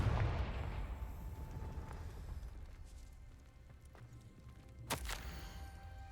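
A Confringo fire spell goes off in the Hogwarts Legacy video game: a loud, rumbling blast that fades out slowly, followed a few seconds later by a second sharp, booming burst.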